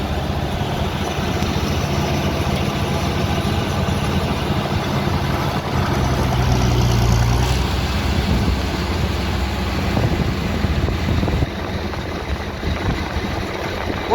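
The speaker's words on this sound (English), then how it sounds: "Dad's gonna load the spreader up the tractor now" Tractor engine idling with a steady low rumble while the spreader is loaded, close and continuous, with faint clunks and shifts in the background.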